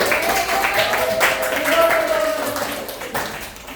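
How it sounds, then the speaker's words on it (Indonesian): Classroom group applause, with many hands clapping in a dense, steady patter and voices talking and calling over it throughout. "kita beri aplaus untuk kelompok"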